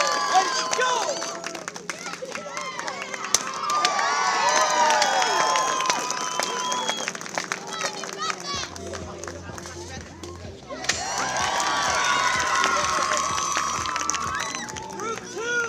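A crowd at a taekwondo demonstration at the zoo cheers and shouts continuously, with children's voices mixed in, dipping briefly before swelling loudly again while an instructor's voice carries over the noise.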